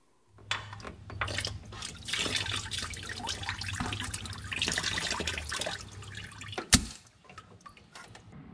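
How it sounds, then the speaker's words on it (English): Coolant drains from a Jeep Liberty after the lower radiator hose comes off, a steady splashing pour into a catch pan with one sharp metallic clank near the end. "Off comes the lower radiator hose."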